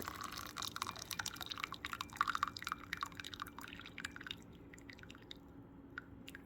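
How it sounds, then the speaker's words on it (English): A first steep of tea is poured out of Tao teaware. It makes a faint, steady trickle with scattered drips, thinning to sparse drops near the end. "Alright, this is the first steep I'm pouring out."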